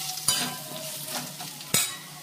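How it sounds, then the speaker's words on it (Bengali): Ground coriander and cumin powder frying in a pan, with a soft steady sizzle broken by two sharp scraping stirs of a spoon, close and with no talking. "এবার মশলাটাকে এর সাথে একটু ভাজা ভাজা করে নিচ্ছি"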